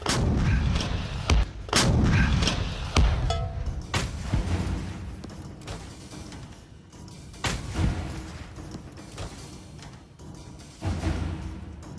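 Soviet MT-12 Rapier 100mm anti-tank gun firing a high explosive fragmentation round, several heavy booming blasts with rolling echoes outdoors.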